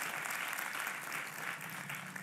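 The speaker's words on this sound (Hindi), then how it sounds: "और ऐसी तालियां तुम पहली बार बजा रहे हो ऐसा तो नहीं है" An audience at a satsang claps together in steady, dense applause, a brief continuous patter heard from a little distance.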